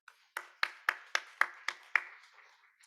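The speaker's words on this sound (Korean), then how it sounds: "우리 격려의 의미로 에브라임 찬양대 에바다 찬양팀 격려하면서 함께 박수하겠습니다" A church congregation at a youth worship service claps together to encourage the choir and worship team, sounding as about eight sharp, evenly spaced claps that ring briefly before fading out.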